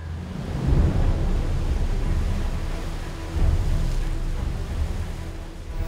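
Sea waves wash onto Ramlet al-Baida, the large free public beach on Beirut's waterfront, a steady broadband roar with swells rising near the start and again midway, wind buffeting the microphone throughout.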